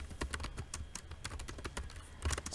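Key presses on a computer keyboard fall in a brisk, slightly uneven run of close, soft clicks, with no speech over them.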